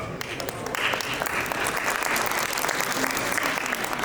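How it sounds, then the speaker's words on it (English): Listeners at a GDG Bishkek developer meetup give a speaker a dense, steady round of applause that stays loud and even throughout. "This applause for you."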